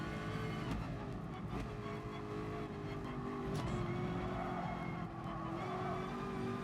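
A race car engine in GT Sport, a steady sustained drone with throttle rising and easing, plus brief tire squeals, continuous and up close throughout.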